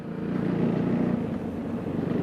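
A KTM Duke 390 single-cylinder motorcycle engine runs steadily close by, a raw, gritty low drone with rough pulsing texture holding at a constant level throughout, with no voices.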